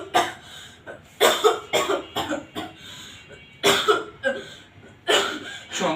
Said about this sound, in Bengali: কাশতে থাকো।